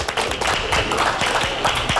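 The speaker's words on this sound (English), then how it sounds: "Claps all around for John Eckhart, who picks up his first strike of the match" A bowling alley crowd claps for a strike in brief, scattered, fairly close claps that keep going throughout.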